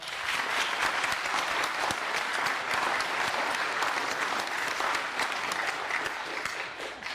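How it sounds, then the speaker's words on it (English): Audience applause at a drought town hall, a dense, continuous wall of clapping from a large crowd that holds steady for several seconds with no speech over it. "Those who believe no, please applaud."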